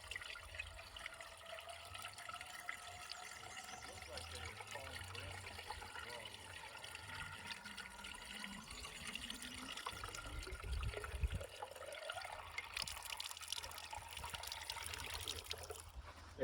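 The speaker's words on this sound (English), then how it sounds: "you will get yourself a bucket, fill it with water, and then pour it in here, and you will hear it filling up." Water poured from a bucket into a fire pump to prime it makes a steady, close trickling and gurgling that runs throughout, its pitch rising toward the end as the pump fills.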